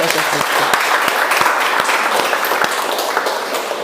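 Audience applause in a classroom discussion session, a steady dense wash of many hands clapping with sharp individual claps standing out, sustained and fairly loud throughout.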